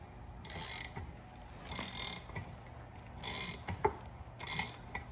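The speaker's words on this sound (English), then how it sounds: "I'm just ratcheting in." A ratchet turns while pressing an ABS wheel bearing into a Harley-Davidson rim, four quiet bursts of rapid clicking at roughly one-and-a-half-second intervals, close by, with faint metallic knocks between strokes.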